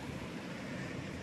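The Virgin River in Zion National Park, flowing as a steady broadband rush of moving water, even and fairly soft throughout with no voices.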